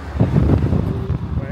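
Strong stormy wind buffets the microphone in a coastal town during a storm, a steady close roaring rumble, with a voice speaking under the gusts.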